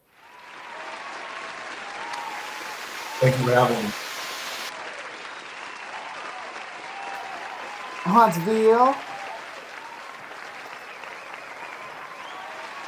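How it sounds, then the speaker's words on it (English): A podcast audience gives a sustained, steady round of applause, even and moderately loud, while two brief bursts of speech cut through it. "let me give you a round of applause here"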